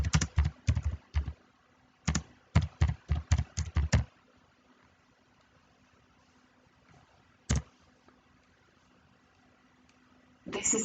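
Computer keyboard typing in quick close clusters of keystrokes, then a long quiet stretch broken by a single key press and a short burst near the end.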